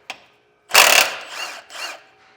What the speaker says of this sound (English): Both of these are going to get removed using a 12mm socket.